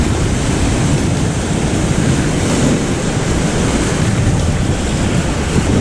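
Sea waves wash steadily onto a rocky shore during lure fishing for sea bass, a loud continuous surf roar mixed with wind buffeting the microphone, no voices.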